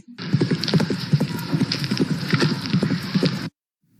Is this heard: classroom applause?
no